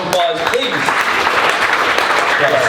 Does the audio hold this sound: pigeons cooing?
no